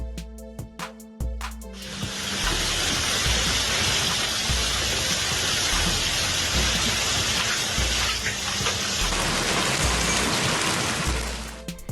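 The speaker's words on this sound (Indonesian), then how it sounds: "Hujan es besar-besaran di Yunani." A dense, roaring downpour of hail in Greece pounds down without letup, rising in after a brief tonal intro and fading near the end.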